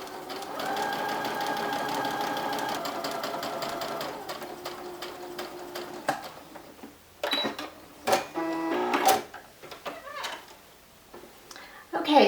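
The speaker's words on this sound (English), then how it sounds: "So once I've got that in position, I am just going to stitch." A sewing machine stitching a fabric hem runs in a steady, close whir for about five seconds, then slows and stops, followed by scattered clicks and handling noises.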